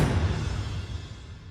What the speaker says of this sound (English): And I've also added this cinematic transition from the verse to the build-up